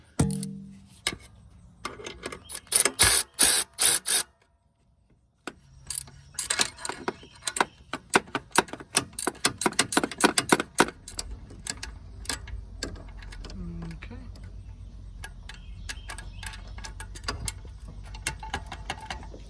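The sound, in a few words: loosening car engine belt tensioners for alternator and AC compressor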